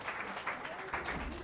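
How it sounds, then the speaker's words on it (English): An audience gives a round of applause for Capri the dog after her performance, a soft, fairly distant patter of clapping that stays low and continuous throughout. "All right, give Capri another round of applause."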